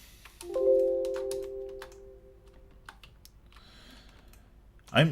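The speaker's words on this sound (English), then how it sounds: "Again, the damn keyboard." Computer keyboard keys click in scattered bursts at close range, accompanied by a sustained electronic tone early on and a louder sharp clatter at the end.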